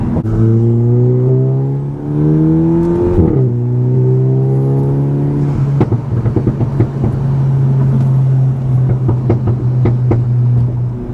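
A VW Golf GTI MK8 fitted with a Unitronic intercooler drones at a steady engine note, then briefly blips higher before settling into a loud, continuous hum with scattered clicks.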